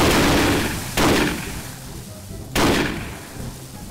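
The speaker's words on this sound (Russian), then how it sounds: "пока там стреляют" Two loud gunshots ring out about a second and a half apart in the Garry's Mod game, each followed by a decaying tail.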